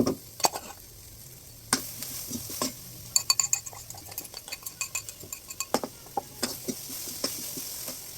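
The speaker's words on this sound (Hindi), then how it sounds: "यहाँ पर मैं बना रही हूँ सेव टमाटर।" Sev tomato curry on a clay chulha stove in a village, with a spoon stirring and clinking against the pot in quick, close taps over a soft, constant sizzle.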